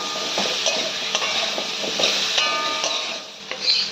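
Malabar spinach (pui shaak) vegetables fry and sizzle in a pan with salt and turmeric, a steady close hiss with repeated clinks and scrapes of a spoon stirring against the metal.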